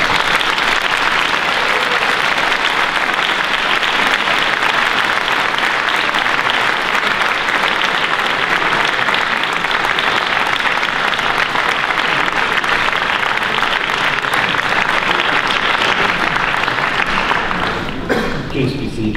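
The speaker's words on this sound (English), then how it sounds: "offer an extraordinary applause to thank parents, families, partners, and friends" An audience at a 2013 AECC graduation ceremony applauds in loud, sustained, dense clapping that fills the hall evenly and fades slightly at the very end.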